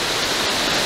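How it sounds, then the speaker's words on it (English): Hedge Creek Falls, a waterfall in Northern California, gives a steady, dense roar of falling water, loud and unbroken throughout the short stretch with no voices. "Hedge Creek Falls,"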